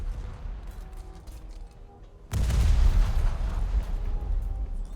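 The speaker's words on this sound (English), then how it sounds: "That's the second time that I've detonated torpedo tubes." Torpedo tubes on an enemy warship detonating in a naval combat game: low rumbling battle noise suddenly breaks into a heavy booming blast that rolls on loudly for several seconds.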